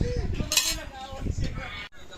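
Spoons and forks clink against plates as people eat a corned beef meal indoors in a bedroom, a few close metallic taps and scrapes with faint voices murmuring underneath.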